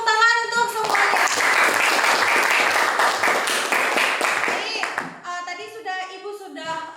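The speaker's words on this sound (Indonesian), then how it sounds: "beri tepuk tangan untuk semuanya" Classroom students clap together for about four seconds, a dense, close burst of applause that stops abruptly, followed by a voice and teacher speaking.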